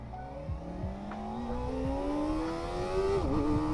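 A Kawasaki ZX-4RR sport motorcycle engine revs up in one long rising pitch, climbing steadily higher before a brief dip near the end, loud and close.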